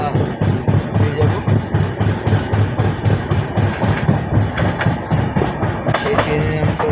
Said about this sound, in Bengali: এই ট্রেনের নাম তো আগেও বলেছি, এখনও বলছি, কবিগুরু এক্সপ্রেস।